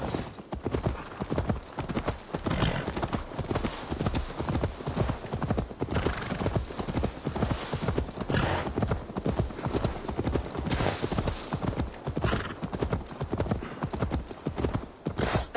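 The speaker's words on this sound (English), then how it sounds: "Now to deliver Magni his horse." Continuous rhythmic clip-clop of horse hooves at a steady trot in Assassin's Creed Valhalla, close and prominent, with a brief voice now and then.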